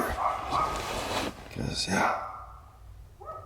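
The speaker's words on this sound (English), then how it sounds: "dogs everywhere. They just won't stop barking." Several dogs bark repeatedly in a residential neighborhood, some yips close and some farther off, while a person speaks briefly over them.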